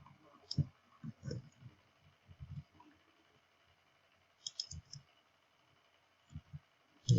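Computer mouse clicks come in scattered short bursts, single and double clicks with quiet gaps between them, close and fairly soft.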